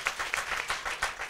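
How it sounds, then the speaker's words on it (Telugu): A church congregation claps together in a rhythmic burst of roughly even beats, moderately loud and fairly close, with no clear talk over it. "చప్పట్లు కొట్టి దేవుని మహిమపరచాలి."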